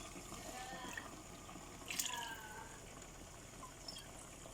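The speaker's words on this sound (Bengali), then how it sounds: "2 কাপের মতো পানি দিলাম।" About two cups of hot water from a kettle poured into a cooking pot of rohu fish curry with radish, a steady close liquid rush with a brief louder splash midway, no talking.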